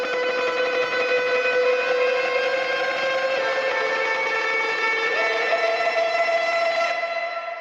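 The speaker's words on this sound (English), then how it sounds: "I've played some tremolo picking guitar." Dense, sustained distorted guitar tone with rapid tremolo-picked notes in 7/8, a bright wash of harmonics, shifting pitch partway through; steady and loud throughout.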